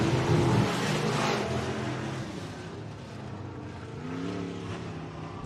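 Race cars on the dirt oval at Boone Speedway in Boone, Iowa, roar through the final turns to finish a heat race, engines droning and revving loudly with a steady blend of several cars, their pitch rising and falling as they pass.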